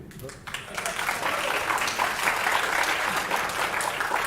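Audience applause after a concert in the Living Composer Series, building within the first half second into a steady, dense clatter of many hands that keeps going without a break.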